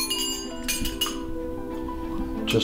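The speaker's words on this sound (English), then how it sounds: "So I've selected this bell and this bell to go over here," Bronze call bells being struck during an installation, bright ringing tones with clinks and long sustained overtones, fairly close, a brief word spoken near the start.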